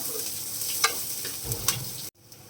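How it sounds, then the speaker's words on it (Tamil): Sliced onions and curry leaves sauté in hot oil for a Tamil vada kuzhambu, a steady close sizzle broken by a few stirring scrapes before the sound cuts off abruptly. "இதை நல்லா வதக்கி எடுத்துக்குவோம் வெங்காயம் போட்டு இப்போ உடனே கொஞ்சமாக கருவேப்பிலை நான் போட்டுக்கிறேன்"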